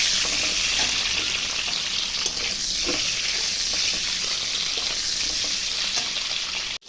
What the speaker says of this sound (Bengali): এখন ডিমগুলো আমি ভেজে নিব হালকা করে।